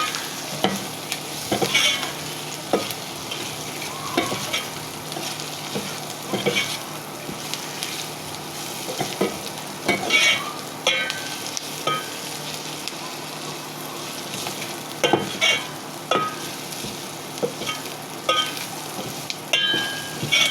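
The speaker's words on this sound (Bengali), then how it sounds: "এটা ভালো করে পেঁয়াজের সাথে ভেজে নিতে হবে" Chopped onion with cumin and coriander powders fries in a pan for a hilsa fish curry, a steady close sizzle broken throughout by repeated scraping strokes of a stirring spoon.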